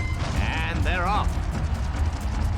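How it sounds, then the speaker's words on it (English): Horses in a Gallop Racer turf race, a steady dense rumble of hooves and crowd-like noise running loud and continuous under a brief tonal whinny-like call. "The horses are on the track."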